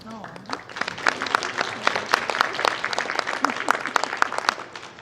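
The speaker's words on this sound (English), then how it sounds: "You should give yourselves a round of applause" Parents at a 12th-grade parent meeting clapping for themselves, a scattered round of individual claps from a modest group, moderately close, with a voice heard briefly at the start.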